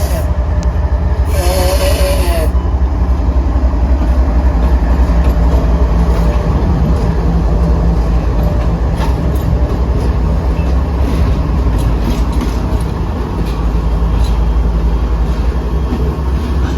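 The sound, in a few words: CSX locomotives 3398 and 5264 reversing in the yard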